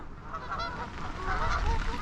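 A flock of Canada geese with some gulls honking at a reservoir, overlapping calls rising and falling, fairly close, growing busier and louder toward the end.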